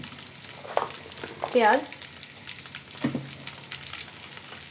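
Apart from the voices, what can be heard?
frying in a pan for chicken sizzling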